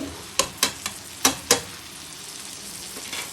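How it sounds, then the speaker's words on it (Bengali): Spices, chilli powder, salt and ginger paste frying in a pan, with four or five sharp spoon scrapes and clanks in quick succession over a soft, steady sizzle. "এটাকে নাড়াচাড়া করে নিই"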